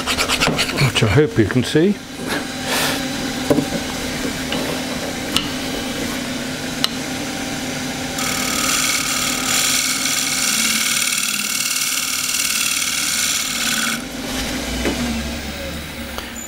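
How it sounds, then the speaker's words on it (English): A woodturning tool edge being honed on a hone during bowl turning, giving a steady rasping rub that runs for several seconds, brighter and louder in the middle stretch, with someone talking briefly at the start. "I'm just going to hone that."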